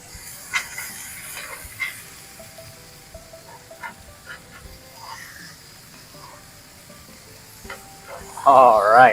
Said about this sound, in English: you just want to get a nice sear on them